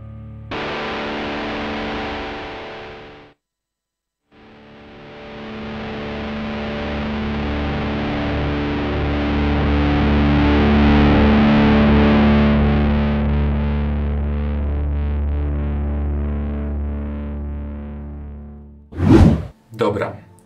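Heavily distorted electric guitar through a DigiTech Death Metal pedal, knob being turned: a chord rings out loud and sustained, briefly cut, then swells again with a wavering tone before a couple of short bursts at the end.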